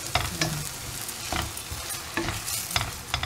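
Egg bhurji fries in a pan while a spatula stirs and scrapes it, rhythmic scraping strokes about every second over a continuous close sizzle, with no talking.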